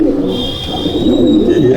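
Pigeons cooing in a loft in Garia, Kolkata, soft low rolling coos repeating close by, with a faint voice in the background.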